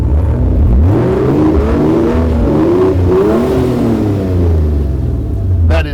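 A Toyota FJ40 Land Cruiser fitted with a turbocharged Barra engine revs hard and close, its loud rising and falling engine note sweeping up and down several times over a deep rumble.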